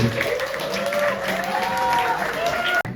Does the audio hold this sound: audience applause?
yes